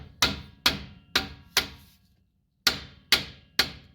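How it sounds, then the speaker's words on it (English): Sharp metallic hammer blows struck through a piece of wood onto a Ram 2500 brake part, four in a steady rhythm, a brief pause, then three more, each ringing out briefly; close and loud with no talking. "and I just start knocking it out of the way with"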